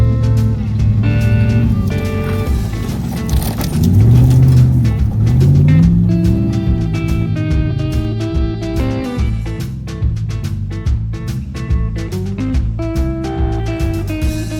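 Chevy 1500 pickup converted to a dually climbs a hill, its engine loud and close, revving up and down in surges as the rear wheels work for grip, with clattering and knocking over the roar.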